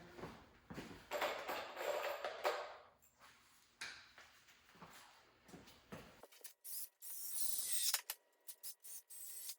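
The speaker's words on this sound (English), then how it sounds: "Going to screw those in." Screws being driven into the timber frame of a heavy-duty wooden workbench, with bursts of drill whir and ratcheting bites, scraping handling noise and a sharper high whine near the end, close by and without talk.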